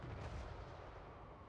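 Cannon artillery fire booms in Total War Warhammer 3 during a Malakai Makaisson campaign battle, a dense, loud rumbling barrage with low thuds rolling continuously and no clear gaps between shots.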